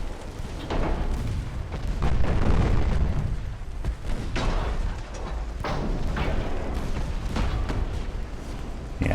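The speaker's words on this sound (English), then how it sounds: "Ammo detonation." A ship's ammunition detonates in the naval warfare game Ultimate Admiral: Dreadnoughts, a deep, rolling explosion swelling to a loud boom, followed by further muffled blasts and thuds of gunfire continuing around it.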